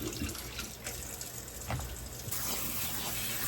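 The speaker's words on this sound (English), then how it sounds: "we'll cool those off with some cold water" Cold tap water runs steadily over boiled potatoes in a sink, a constant hissing splash with small shifts in flow.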